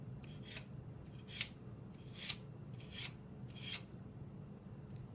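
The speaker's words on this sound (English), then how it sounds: "Sand along the next edge of the block and the very edge of the paper, using one downward stroke at a time." Paper edges are sanded against a block in separate single downward strokes, each a short, soft, raspy scrape, spaced about a second apart and faint in a quiet room.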